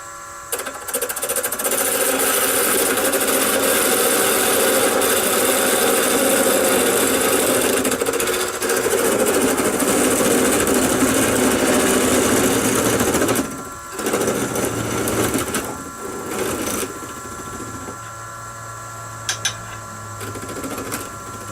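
A wood lathe spins at about 850 RPM while a 1/4 inch parting tool cuts, making a screw chuck for spigot jaws. A loud, steady whirring grind runs for about thirteen seconds, then drops to a quieter, uneven hum.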